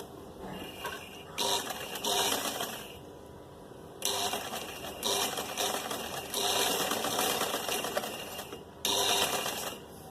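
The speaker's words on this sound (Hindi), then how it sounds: "इसको यूं मोड़ देंगे और एक सिलाई लगा देंगे।" A sewing machine stitches a folded neckline on an embroidered kameez in several loud, close bursts of rapid whirring, separated by brief pauses where the machine stops.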